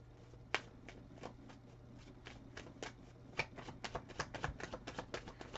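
A deck of playing cards being shuffled up close, a run of quick crisp riffles and snaps that speeds into a dense flurry of flicks toward the end, with no talking over it.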